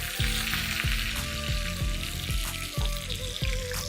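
Mustard seeds and cumin hit hot oil in a pan, crackling and spitting in a loud, busy sizzle with repeated quick pops throughout, close and with no talking.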